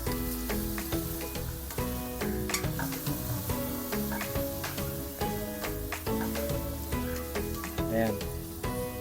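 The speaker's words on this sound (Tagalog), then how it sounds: "Igisa lang natin yan hanggang sa medyo" Chicken sautés in a pan for chopsuey, giving a continuous sizzle with intermittent stirring clicks, close and fairly loud; background music plays throughout.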